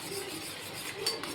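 A spoon scrapes and clinks steadily in a small bowl as coffee powder is mixed into a smooth, lump-free paste for a homemade face pack. The sound is faint and close, with no voices.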